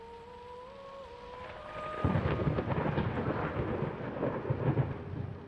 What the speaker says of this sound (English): Every like crack of thunder on this game is like, oh, music